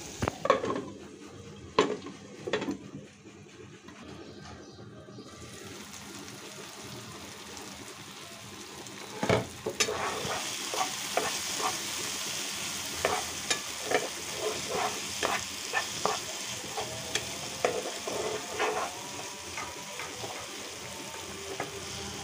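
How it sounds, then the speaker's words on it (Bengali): Tomato and green chilies sautéing in a pan over medium heat, a steady close sizzle with frequent spatula scrapes and clinks against the metal pan running throughout, no talking. "দিয়ে আরও কিছুক্ষণ এটাকে কষিয়ে নেব।"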